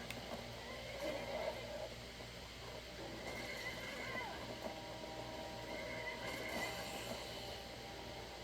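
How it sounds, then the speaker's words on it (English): A horse neighs and whinnies while fighting in the video game Skyrim, with hoof clip-clops mixed into a busy, steady background of game ambience. "Oh, horse is out here fighting."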